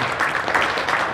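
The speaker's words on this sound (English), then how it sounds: "I just want to give him a quick round of applause," An audience in a school gym gives a quick round of applause at a boys' varsity basketball senior night, a steady wash of clapping that fills the short moment with no talk over it.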